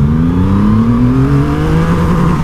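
Triumph Rocket 3 motorcycle pulling hard in first gear, a loud, steady engine note rising smoothly in pitch as it accelerates, close and continuous with no talk.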